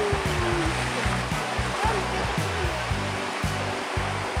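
Steady roar of Talon Falls waterfall in Maragondon, Cavite, a dense rushing wash of water filling the whole clip, with faint speech-like tones buried underneath.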